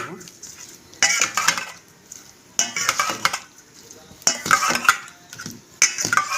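Spices and ginger-garlic paste are mixed by hand or spoon in a metal bowl, producing bursts of close, clinking, scraping stirring separated by brief quieter pauses.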